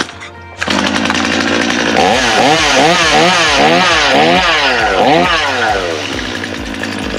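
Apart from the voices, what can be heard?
Stihl chainsaw engine running after starting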